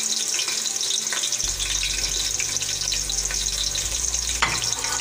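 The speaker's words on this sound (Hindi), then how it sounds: "तेल गरम हो चुका है, अब इसमें हम प्याज डालेंगे।" Onions go into one cup of hot oil for matar pulao and fry with a loud, dense, continuous sizzle that swells a moment after they hit the pan, with no talk.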